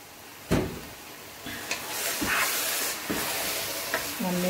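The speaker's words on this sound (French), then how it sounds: "On va mélanger." A spinach dish is stirred in a cooking pot with a soft scraping, sizzling texture punctuated by several sharp knocks of the utensil against the pot.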